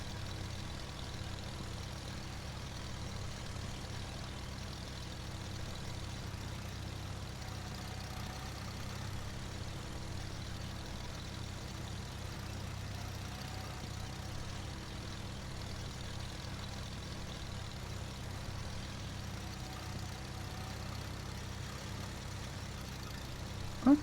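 An old tractor engine running on a farm, a low steady idling rumble that holds evenly throughout, faint and somewhat distant, with no voices.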